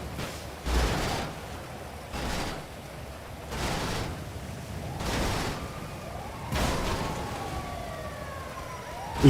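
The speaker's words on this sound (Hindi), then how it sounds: "एक और फायर ब्रिगेड आ गई।" Fire engine siren wailing in a video game, a loud rising and falling electronic tone that sweeps repeatedly across the whole stretch amid rhythmic bursts of game noise.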